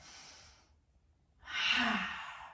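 Deep exhale during a beginner's yoga breathing exercise, a quiet breathy rush that fades, then after a short silence a stronger, longer breath out, close to the microphone.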